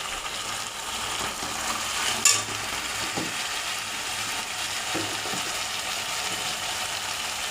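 Spices stir-fry in hot oil for a katla fish curry with drumstick, a steady close sizzle and crackle punctuated by spatula scrapes and stirring knocks against the pan.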